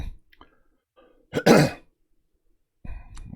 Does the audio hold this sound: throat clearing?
yes